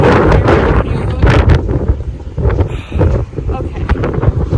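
Loud, buffeting wind roars and gusts against the microphone, with a voice partly audible beneath the rumble.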